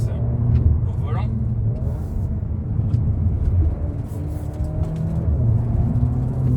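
A Cupra Ateca 300 hp with a seven-speed DSG and all-wheel drive is driven with its engine humming steadily inside the cabin. Pitch changes hint at gear shifts while a person talks over it.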